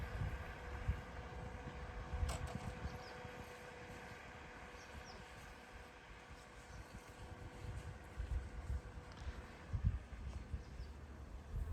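A small remote-controlled autopilot boat's motor whines steadily and continuously at moderate volume, with wind buffeting and faint water noise around it.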